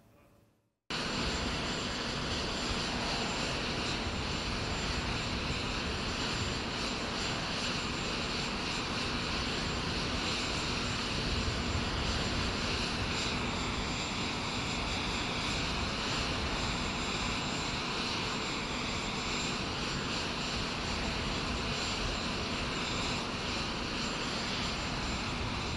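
Steady, loud engine roar of the Air Force One presidential jet, a continuous broadband drone with a faint high whine running evenly throughout, with no talk.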